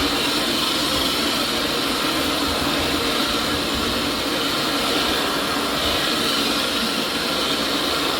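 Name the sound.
carpet cleaning suction machine running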